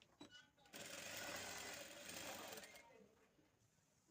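A sewing machine runs in one steady stitching burst of about two seconds, sewing along a folded piece of blouse fabric, with short clicks and handling before it starts and faint rustling after it stops.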